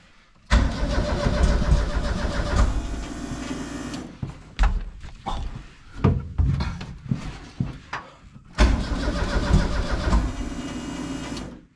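A Ford Fiesta mk2 with a Zetec turbo engine cranking on the starter in repeated long bursts, each a loud, steady whirring churn that stops and restarts, close up with no talk.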